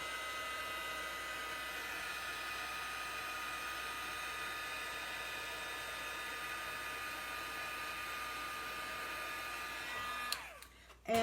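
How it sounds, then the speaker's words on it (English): A heat gun blows steadily up close, drying paint in a crafting session, a continuous airy whir holding level for about ten seconds before it clicks off near the end. "I will take a heat gun to it."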